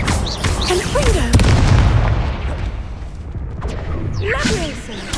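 Booming fiery blasts from the Confringo spell in Hogwarts Legacy, whooshing bursts and explosions layered with combat effects and spoken character voices throughout.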